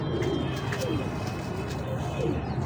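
Pigeons coo in soft, repeated rolling calls amid a dense flock, with a steady background hum and light chirps throughout.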